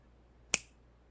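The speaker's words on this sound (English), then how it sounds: "Snap my fingers, I can change my outfit to fit the job." A single sharp finger snap, close and crisp, stands alone in a quiet room with a faint steady hum.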